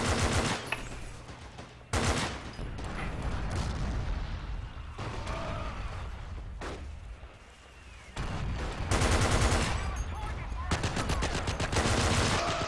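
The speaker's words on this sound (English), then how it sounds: "I don't know where that machine gun is that has me under fire though" Machine gun fire in the World War II shooter Forgotten Hope 2 at Pointe du Hoc comes in repeated loud bursts with gaps between them, mixed with other gunshots, while a player talks over some of it.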